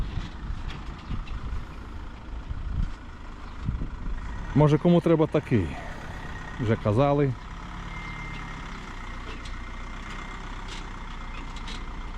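A tractor pulls in and maneuvers during a tractor trip in the Rivne region of Ukraine: a steady engine drone with a short burst of loud tonal horn or beep-like sounds midway, while people talk over it.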